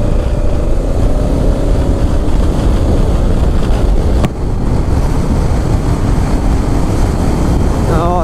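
Motorcycles on a group ride-out, heard from a rider's position as a loud, steady engine roar mixed with heavy wind buffeting, with a brief dip midway as others pass.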